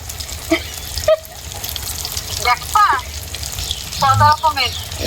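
Food fries in hot oil with a steady, moderately loud sizzle and hiss, interrupted by short bursts of people talking over it.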